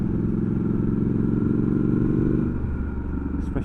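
A Triumph 1200 Scrambler XE motorcycle fitted with Arrow exhaust pipes rumbles steadily and loud on a country road, its engine note dropping slightly toward the end.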